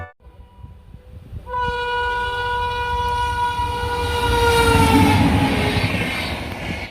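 A train sounds a long, loud sustained horn as it rolls through a railway crossing on a road trip from Ahmedabad to Bharuch, the wheel and engine rumble building steadily underneath.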